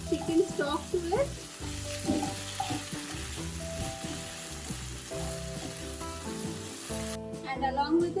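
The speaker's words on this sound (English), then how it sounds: "Fry it along with the mushrooms." Flour frying in a pan with chicken and mushrooms for a creamy chicken stroganoff, giving a steady close sizzle with occasional utensil scrapes and clinks throughout.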